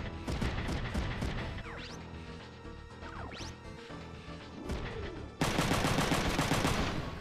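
A beam weapon firing in the video game Front Mission 3, a harsh, dense crackling barrage with rapid impact bursts and sweeping tones, swelling into a loud, sustained blast for the last couple of seconds.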